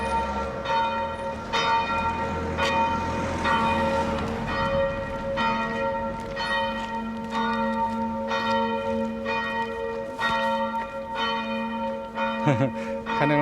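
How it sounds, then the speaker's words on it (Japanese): Church bells peal continuously through a street in the Saint-Leu district of Amiens, France, their rich overlapping tones ringing out loud and steady for the whole stretch, with faint voices of people walking nearby. "鐘の音いいね。"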